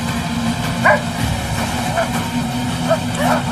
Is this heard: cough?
no